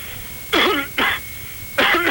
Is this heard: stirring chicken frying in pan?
no